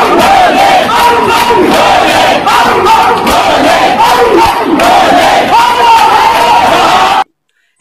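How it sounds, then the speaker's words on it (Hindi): A uniformed policeman chants the devotional slogan Bam Bam Bhole amid a crowd, loud rhythmic shouting and cheering continuing steadily for about seven seconds before cutting off abruptly. "इस वीडियो में यह पुलिस वाला बम बम भोले का नारा लगाता हुआ कितना भक्ति भावना में डूबा हुआ है"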